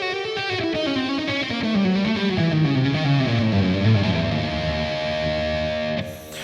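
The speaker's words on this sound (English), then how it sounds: "what we have is a diminished scale run." Distorted electric guitar plays a diminished scale run at medium tempo, a steady stream of single notes stepping through the pattern, loud and close with no talking.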